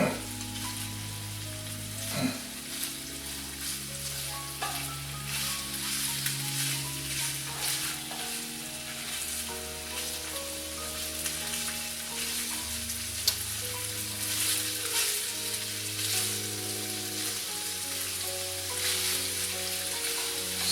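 Seafood vodka sauce sizzles and fries steadily in a pan, with occasional stirring clinks and spoon scrapes over the continuous crackle, close and alone without talk.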